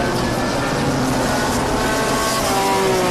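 BMW race cars lapping Zwartkops circuit toward turn 2, a loud continuous engine roar with rising and falling tones of several cars close by, no talk.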